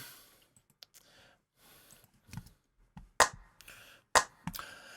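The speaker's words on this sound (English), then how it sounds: "And it's not a snare, it's actually a clap. Obviously that's an R909 sound as well." Roland TR-909 drum machine clap: a few sharp, dry clap hits with faint clicks between them, quiet and isolated against near silence.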